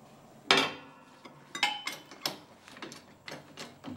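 A bolt on a go-kart frame is tightened with a ratchet or wrench, giving a series of sharp metallic clicks and clanks in an irregular rhythm, close and fairly quiet.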